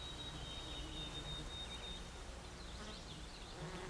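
Bees and wasps buzz around wildflowers such as fireweed, a faint, continuous drone of insect wings with an occasional higher whine drifting past over quiet outdoor ambience.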